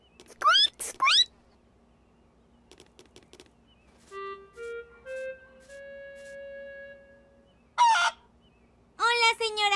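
A cartoon hen clucks in a Peppa Pig video game, giving short bursts of squawky calls at the start and end. Soft game chimes and tones fill the middle, with no talking.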